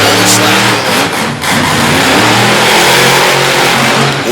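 A monster truck engine roars loud and close through a wheelie in a time-trial run at an event in Lewisburg, West Virginia, revving hard and sustained with small surges and dips.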